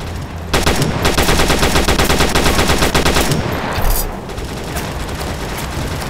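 Loud, sustained automatic gunfire from the World War Heroes video game, a dense rapid burst running nearly continuously for several seconds with a few heavier booms, then easing into a lower rumble.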